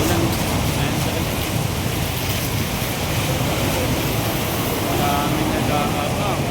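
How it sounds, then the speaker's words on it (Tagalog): Heavy rain pouring steadily, a dense broadband hiss with a constant rushing texture and no breaks. "lakas ng ulan"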